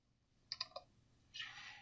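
A few quick computer keyboard key presses, three sharp clicks in a short cluster, followed by a brief softer rustling burst, all faint against a quiet room.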